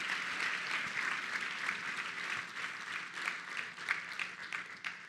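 An audience at a charity gala fundraising auction claps steadily for several seconds, a dense patter of many hands at moderate distance, fairly quiet overall.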